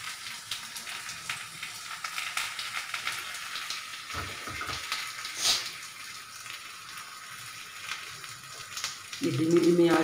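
Bottle gourd curry simmering in a pan over a slow flame, giving a soft continuous sizzle with faint stirring and a brief clatter, moderately close, with a voice at the very end.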